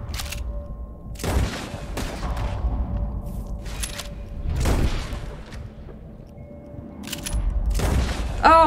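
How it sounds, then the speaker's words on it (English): Gunshots fired at birds in the video game Red Dead Redemption, a handful of heavy booming shots spaced a second or two apart over a constant rumbling background. "As soon as you see them, start shooting."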